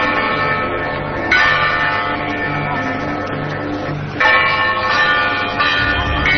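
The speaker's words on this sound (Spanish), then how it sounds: "Estas son las campanas, así suenan campanas, de un lugar llamado Fátima" Church bells ring at the Fátima sanctuary, a sustained, overlapping metallic clangour with fresh strikes swelling in every few seconds, heard as a broadcast recording.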